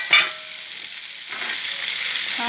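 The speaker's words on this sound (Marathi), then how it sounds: "छानपैकी हलवून घ्यायचे आपल्याला" Cluster beans frying in a pan with salt, turmeric, chili powder and black masala, a steady bright sizzle with a sharp crackle at the start and the hiss rising again toward the end as they are stirred.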